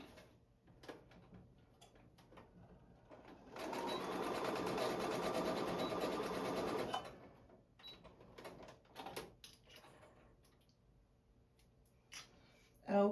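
A sewing machine runs steadily for about three seconds, stitching the side seams of a small fabric clip holder, with quieter handling noises and brief speech before and after.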